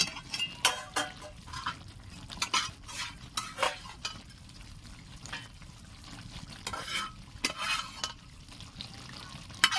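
A spatula stirs chicken together with fried onion and tomato in a pan for a Bengali chicken do pyaza, scraping in quick irregular strokes over a soft sizzle, close and moderately loud, with no talk.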